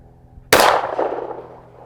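A pistol with a red dot sight fires a single sharp, loud shot at a target nearby, and the report trails off in a fading echo, with no talk.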